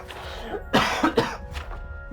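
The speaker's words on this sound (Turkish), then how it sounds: "Hala öksürük devam ediyor." A person coughs in a quick cluster of three or four harsh, close bursts, with a throat-clearing quality, over a steady background of video game ambience.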